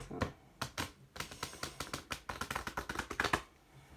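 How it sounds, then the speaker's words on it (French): A deck of playing cards being shuffled, heard as a quick series of crisp riffling bursts and taps, close and fairly loud, with no talking. "je vais quand même battre un peu les cartes."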